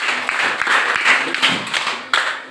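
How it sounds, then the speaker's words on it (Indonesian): A sixth-grade class at an elementary school claps for a classmate, producing a loose, uneven patter of hand claps and taps with a few sharper thumps nearby. "Tepuk tangan dulu untuk teman yang memiliki semua."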